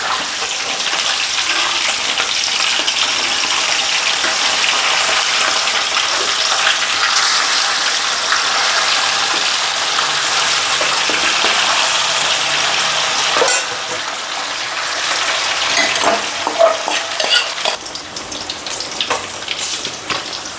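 Fish pieces fry in hot oil in a gongura fish recipe, giving a loud, continuous close-up sizzle with bubbling, splashy crackle and occasional stirring sounds throughout.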